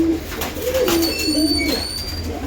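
Male pigeons in a flying loft give low, repeated coos, clearly audible and close against constant background hiss, with no talking.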